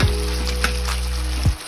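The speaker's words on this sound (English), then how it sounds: "We'll be frying" Beef and vegetables frying in a pan, a dense close hiss of sizzling that holds steady through a brief moment, with a couple of soft knocks at the start and near the end, no speech.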